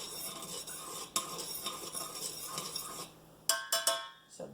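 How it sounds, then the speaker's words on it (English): A spoon stirring a salted liquid in a pot over high heat, a soft continuous scraping with occasional clinks, then several sharp metallic knocks near the end, no voices. "all this goes into a pot on high heat, and it gets stirred until the salt dissolves and this comes to a boil"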